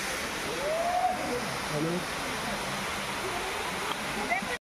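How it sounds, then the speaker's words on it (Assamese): A waterfall on the road toward Bomdila in cold, drizzly weather keeps up a steady broadband rush of falling water. It stays fairly loud and continuous throughout, with brief faint voices near the start. "এতিয়া ৰ'ব সন্মুখত এটা আছে ৱাটাৰফল চেঁচা ৱাটাৰফল"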